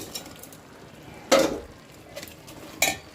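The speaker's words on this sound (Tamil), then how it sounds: "பொரிச்ச காலிஃப்ளவர் போட்டு மிக்ஸ் பண்ணிடலாம்" Quiet pan cooking as fried cauliflower is mixed into thickened sauce, with two sharp spoon scrapes against the pan standing out over faint background.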